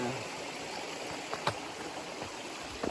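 A stream flows beside the Appalachian Trail in Connecticut, a faint, steady watery hiss with a few soft clicks and knocks over it.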